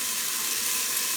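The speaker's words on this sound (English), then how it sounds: "we're gonna start by adding our 2 tablespoons of olive oil. And start by sauteing our onion first." Half an onion sauteing in two tablespoons of olive oil, a steady bright sizzle and hiss with no talking.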